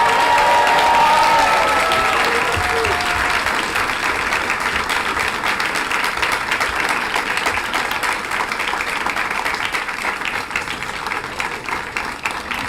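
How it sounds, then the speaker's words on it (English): Graduation ceremony audience for the class of 2025 breaks into loud, sustained applause with scattered cheers, a dense continuous wash of clapping filling the hall and tapering slightly toward the end. "And now for that applause you haven't been holding"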